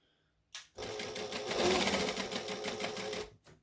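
Sewing machine stitching a seam on a pair of shorts, one continuous close run of about two and a half seconds after a short click, ending with a brief tap.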